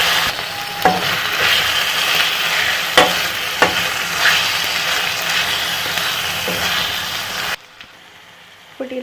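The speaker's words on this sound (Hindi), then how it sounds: "तो चलाएं तेज चम्मच से।" Chicken liver sizzles in a hot pan with ginger and garlic while a spoon scrapes and stirs it, giving loud, continuous frying hiss with sharp clinks of the spoon, ending abruptly in near silence.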